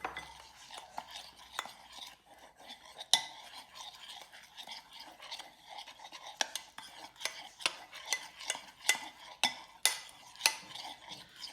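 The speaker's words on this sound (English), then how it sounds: "You stir it." A spoon stirs a steak marinade of flour and pepper in a bowl, with a run of quiet scraping strokes and sharper utensil clinks that grow more rhythmic toward the end.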